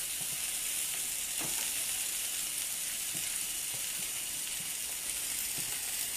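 Sweet potatoes sizzling in a pan, a constant faint hiss of frying with a few soft clicks and taps from utensils, no voices.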